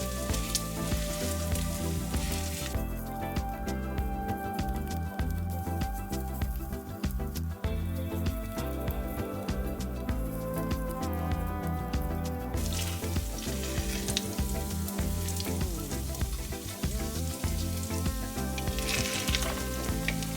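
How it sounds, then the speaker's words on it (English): Mashed potato pancakes pan fry in hot oil, a steady, dense sizzle that carries on unbroken, with occasional scraping and stirring clicks and background music underneath. "pan frying our mashed potato"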